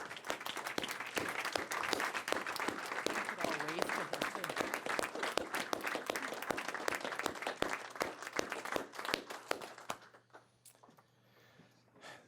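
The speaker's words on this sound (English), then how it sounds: "let's give Karen a round of applause" Sustained round of applause from an audience at a county board meeting honoring a resigning board member, dense clapping for about ten seconds before fading out.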